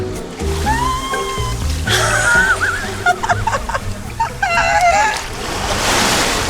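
Sea waves break and wash on a beach in Chile, a surging rush of surf with splashing, while people shriek and exclaim excitedly over the water noise.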